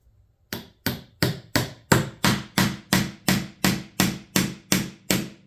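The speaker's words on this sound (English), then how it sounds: "Pound your nail in." Hammer driving a finish nail into wood with about thirteen sharp, evenly spaced blows, close and loud, with no talking.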